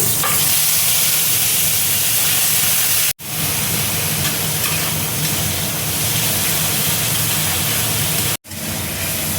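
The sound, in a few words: onion paste frying in oil with nigella seeds and bay leaf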